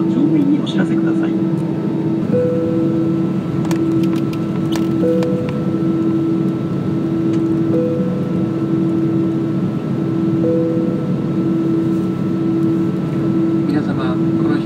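Steady low droning cabin hum of a StarFlyer Airbus A320-200 waiting on the ground at Kitakyushu Airport, with a faint intermittent tone and a Japanese cabin announcement throughout.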